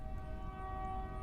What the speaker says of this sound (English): I am sorry about the train noise.